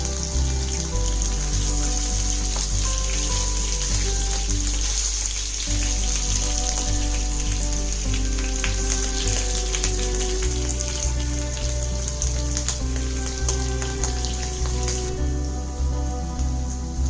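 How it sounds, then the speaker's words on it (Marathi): Paneer cubes fry in hot oil until golden for shahi paneer korma, a loud continuous sizzle with dense crackling and popping like rain on a surface, close and steady with no voices. "आता दुसऱ्या बाजूने पण त्याला छान व्यवस्थित सोनेरी रंगावर त्याला आपल्याला तळून घ्यायचे आहे"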